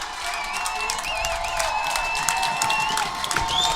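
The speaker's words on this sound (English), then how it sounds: "And the crowd is on their feet here." Packed stands at a college football kickoff, Tufts Jumbos against Hamilton Continentals, give off a steady roar of crowd cheering and applause throughout, with an announcer talking over it and whistle-like tones threading through.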